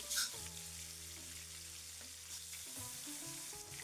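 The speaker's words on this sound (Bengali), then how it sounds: "উল্টিয়ে পিল্টিয়ে মাছগুলো কড়া করে ভেজে নিতে হবে" Koi fish fry crisp in hot oil, a steady faint sizzle running throughout beneath a low background hum.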